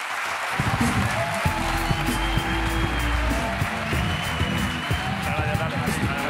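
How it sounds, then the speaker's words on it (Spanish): Studio audience applause on a late-night talk show, a broad, sustained wash of clapping filling the room with a low rumble and music-like tones underneath, continuing steadily after a brief quiet start. "Un aplauso para Alex Pella hoy en La Resistencia."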